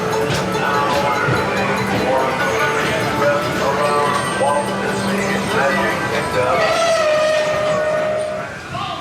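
The Disneyland Railroad train rumbles steadily along the rails with a continuous mechanical drone, as people talk over the noise.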